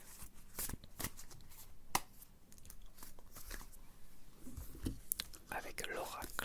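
Oracle cards are shuffled during an ASMR card reading: soft, close riffling and sliding of card stock in repeated bursts, with quiet whispering or breathy sounds at times.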